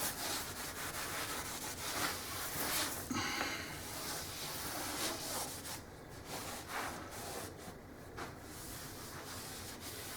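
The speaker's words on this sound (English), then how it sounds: "get yourself a clean rag and just wipe off the excess dust" A clean rag rubs across a sanded kitchen cabinet between gel stain coats, a steady close-up scuffing and wiping with repeated strokes and no talking.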